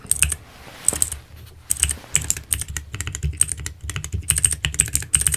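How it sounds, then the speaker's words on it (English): Close, crisp typing on a computer keyboard in quick irregular bursts of clicking keystrokes with brief pauses, during a quiet roleplay of a cranial nerve exam, with no talking. "Just finish typing in your notes before I send you on your way."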